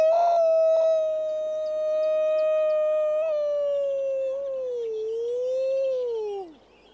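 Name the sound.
person howling to imitate a wolf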